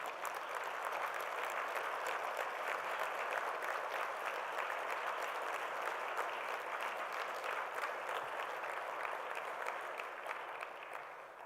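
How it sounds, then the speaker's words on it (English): An auditorium audience at the end of a research talk claps in sustained, even applause, a dense wash of many hands that stays steady and then thins slightly at the close, heard from a moderate distance. "I knew that would get the applause at the end of the talk."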